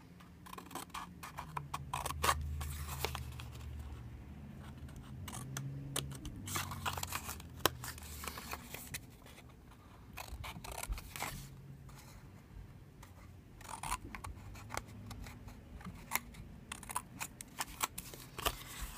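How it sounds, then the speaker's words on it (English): Scissors snip through paper card stock while an Easter greeting card is made, giving quiet, close, scattered cuts with soft paper rustling and no talking. "just grab my scissors. So what we're going to do is cut off these bottom 4 on both sides."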